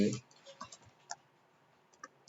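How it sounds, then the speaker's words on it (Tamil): Someone types a trade entry on a keyboard, producing a few sparse, faint key clicks spaced apart, quiet and close. "ஸோ அதை டைப் பண்ணுறேன்."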